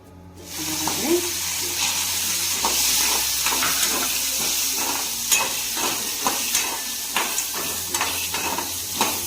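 Green chillies and peanuts frying in oil for Nellore-style peanut chutney hiss and sizzle steadily, punctuated by repeated sharp stirring clicks against the pan.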